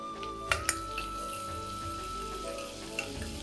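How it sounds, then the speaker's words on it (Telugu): Onions frying in butter with cumin in a pan for pav bhaji, a continuous soft sizzle with a few sharp crackles and spits near the start. "ఇది వేగంగానే ఇందులోకి ఉల్లిపాయలు వేసేస్తాం."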